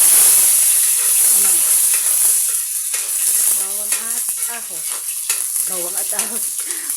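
Loud, steady sizzling and hiss of garlic and onion frying in oil, with someone talking intermittently over the crackle.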